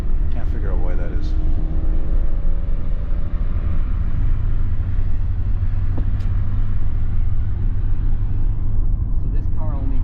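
A 1992 Ford Taurus with a 3-liter iron block V6 on the road in Montreal: a steady, loud engine drone and road rumble from inside the car, with brief voice sounds near the start.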